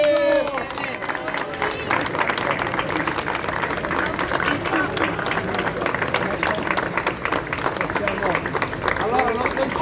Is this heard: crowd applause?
yes